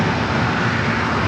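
A Southwest Airlines jet leaving San Diego for Dallas Love Field gives a short, steady blast of engine roar, close and fairly loud, with no speech.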